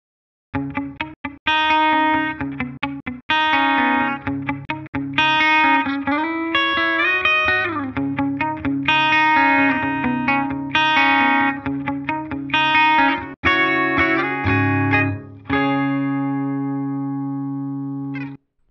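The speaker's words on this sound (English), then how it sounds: "Now here I'm going to pick a 67 Dumble Clean and I'm going to go with sort of a modern sound" Clean electric guitar through a '67 Dumble Clean amp model with a polished, glassy, bell-like modern tone strums chords and picks lines, with a final chord left ringing out. No voices.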